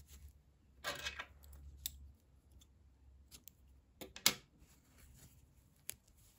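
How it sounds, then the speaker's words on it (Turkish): Scissors snipping yarn after crocheting a small shoe, a few crisp close cuts and clicks separated by quiet pauses, no talking. "İpliği kesiyorum."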